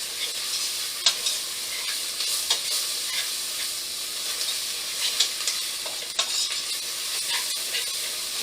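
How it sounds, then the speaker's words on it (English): A small pat of butter sizzles steadily in a pot for French onion soup while a whisk stirs through it, with light scraping clicks against the metal over a continuous hiss and no talking. "Add another little pat of butter. Grab our whisk."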